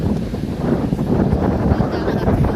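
Strong wind buffets the microphone in a continuous roaring gust on a beach on Egypt's north coast, with faint surf-like rushing underneath.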